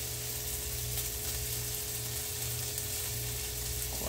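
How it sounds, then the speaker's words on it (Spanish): Bell pepper sautéing in a frying pan, giving a steady, even sizzle that holds at moderate level throughout with no talk over it. "Vamos a sofreír un poquito."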